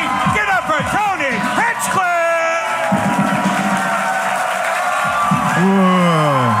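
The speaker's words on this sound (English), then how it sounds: "do you hear the screams?" A live comedy show audience at the Comedy Mothership in Austin, Texas, screaming, whooping and cheering loudly in a packed room, with excited individual shouts rising above a continuous roar.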